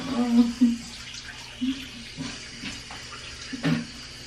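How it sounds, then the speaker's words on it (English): Tap water runs steadily into a bathroom sink while someone washes their face, a soft continuous splash under playful talk between two people. "I'm washing my face."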